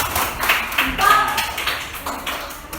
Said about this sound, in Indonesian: Tepuk tangan buat Sucayana.